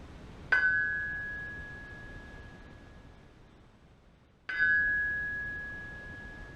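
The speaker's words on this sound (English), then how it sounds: "notice the sound, the ringing sound that these X heads have" Two clear metallic rings from a struck steel axe head, Kelly True Temper or Hultsbruks, each struck once several seconds apart, with a bright tone that sustains and slowly fades in a quiet room.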